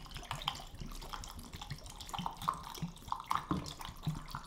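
Blix chemical is poured into a film developing tank at home, a close trickling, splashing pour with uneven gurgles and drips.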